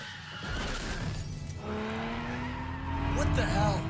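A car braking hard in the racing game Need For Speed: The Run, tires squealing in a rising screech under steady engine roar, with someone talking over it.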